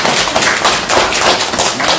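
Audience applause at a gathering, a dense, steady wash of many hands clapping together, loud and close, filling the whole moment without a break.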